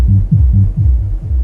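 Subwoofer in a live sound setup after its crossover knob was turned for a harder tone, giving a deep, punchy low throb that pulses in a steady repeating rhythm, loud and alone with no talking.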